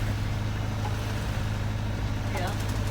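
A steady low engine rumble drones throughout, like a boat motor running on a sailing boat at sea, with rushing noise over it and a brief voice near the end.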